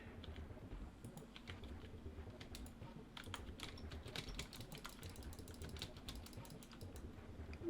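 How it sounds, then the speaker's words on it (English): Computer keyboard typing with quick, irregular keystrokes over a low background hum, close and steady throughout, no voices. "you're going to be hearing that keyboard way too much"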